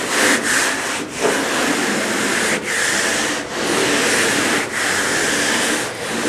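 Hand sanding body filler on a car body, loud rhythmic back-and-forth scraping strokes with short pauses between them, close up.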